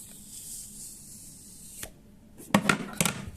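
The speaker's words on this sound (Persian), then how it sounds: "خب خارج از گوشی بریم گلس گوشی رو بکنیم" Crisp crackling and sharp snapping bursts near the mic after a quiet stretch, as a tempered glass screen protector is pried and peeled off a phone.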